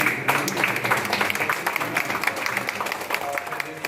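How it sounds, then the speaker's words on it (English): An audience at an art and craft exhibition event at RS Bhavan, Agartala, applauds the organisers, a steady crowded patter of clapping at moderate loudness sustained throughout with no speech. "a big round of applause for all of them"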